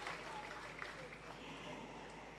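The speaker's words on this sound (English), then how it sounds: "Give them another round of applause, please." Applause from the audience at a Jamaica Civil Service long service awards ceremony, a soft, even patter of many hands that stays steady and distant throughout.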